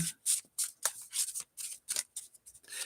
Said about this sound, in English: I'm going to shuffle it and I'm going to cut it until it feels right